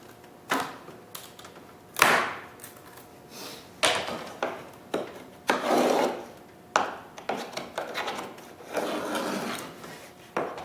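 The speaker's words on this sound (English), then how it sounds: "I use a knife here to pop the corners out." A knife scrapes and pries out the corners of a wood cabinet door panel, producing bursts of close rasping, rubbing strokes in an irregular rhythm separated by short pauses.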